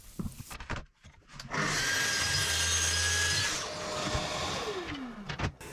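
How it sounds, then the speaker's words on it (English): A track saw on a jig makes a 45-degree cut through a 3x1 length of Scandinavian redwood, with a steady loud whine for about two seconds that winds down, plus handling knocks before and after. "With the jig reset to a 45-degree cut, it's easy to line up the 3x1 and get it cut to length."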